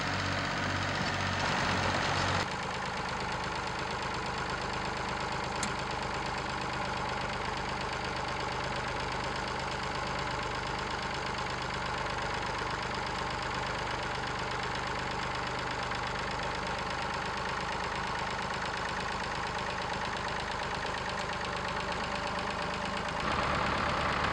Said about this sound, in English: Using the same scraper on the much heavier four-wheel drive case tractor was much better